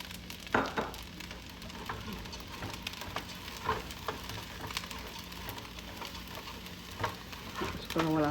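Chopped ingredients, including chopped coriander leaves, fry in a pan while being stirred, with a steady sizzle broken by repeated scraping strokes of the spoon and a louder burst of sizzling at the end.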